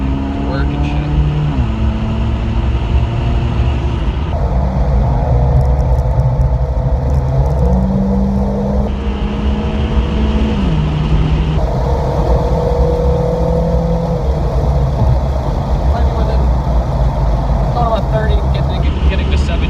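A riced 2010 Honda Civic engine pulling hard through the gears while driving, steady loud drone rising in pitch with shift drops between, road noise underneath and someone talking over it.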